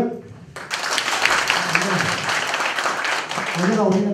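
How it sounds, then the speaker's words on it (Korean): Applause rises from a crowd at a subway labor union gathering, starting after a voice on a microphone and continuing as a broad clapping wash, with speech heard over it near the end. "힘찬 박수로 네 분의 본부장님을 앞으로 모시겠습니다."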